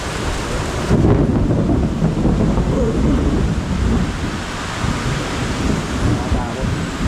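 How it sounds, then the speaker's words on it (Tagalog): Thunder rolls through a storm with steady rain and wind noise, a loud rumble that swells after the first second and keeps up as dense, continuous roaring noise. "nakakatakot naman yung kidlat."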